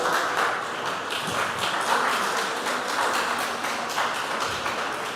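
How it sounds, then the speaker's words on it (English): Steady round of applause from a school quiz competition audience for two contestants, a dense even patter of clapping held at moderate loudness throughout, with no talk over it. "A round of applause for Adeline and Beatrice."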